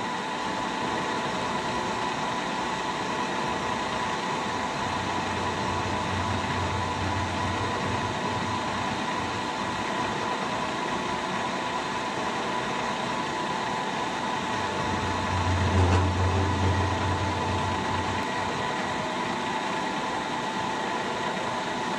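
An old used milling cutter machines a Belsaw M-14 sawmill setworks shaft under slow feed, giving a steady loud broadband whir with a low hum that swells twice, no voices.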